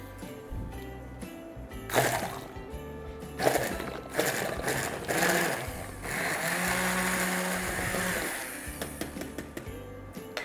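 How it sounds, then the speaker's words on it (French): A blender whirs steadily, blending condensed milk, butter and a pinch of fleur de sel into a sauce; the motor drone is close and sustained, with some intermittent clatter before it. "On va mixer le tout."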